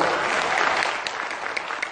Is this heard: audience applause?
yes